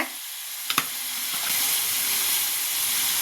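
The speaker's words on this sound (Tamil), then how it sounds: "உருளைக்கிழங்கு போட்டுட்டேங்க. இப்படி ஒரு வதக்கிங்க." Potatoes sauté in a hot pan with a steady close hiss and sizzle, broken early by a couple of sharp clinks as the pieces are turned, with no speech.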